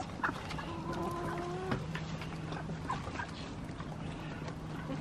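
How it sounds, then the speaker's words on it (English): Chickens cluck and murmur nearby in a busy, irregular chatter, with a few sharper calls standing out over faint outdoor background noise. "Chickens."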